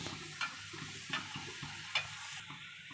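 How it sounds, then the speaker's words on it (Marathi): Malvani chicken vada batter hisses and bubbles as it frys in hot oil, a steady sizzle with a few brighter spattering bursts, close by and without speech. "मस्त असं आपलं तेल मस्त गरम झालेलं आहे तर आता याच्यामध्ये वडा सोडून देऊया"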